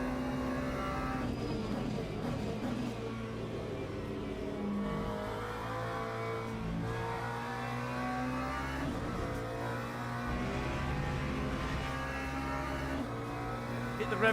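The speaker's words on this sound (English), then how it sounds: "Hit the rev limiter again." Race car engine in the Le Mans Ultimate racing game at Sebring, loud and sustained, with revving peaks where it bounces off the rev limiter and brief voice underneath.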